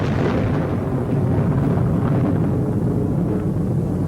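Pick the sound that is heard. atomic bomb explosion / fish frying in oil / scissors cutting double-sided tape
atomic bomb explosion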